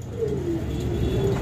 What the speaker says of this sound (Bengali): এখানে ডিম সহ চমৎকার আরো এক জোড়া কবুতরের কালেকশন আছে